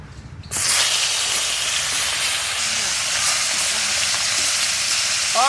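Koi fish dropped into hot mustard oil in a village kitchen pan gives a sudden loud sizzle that settles into a steady, close hiss of frying, with no talking.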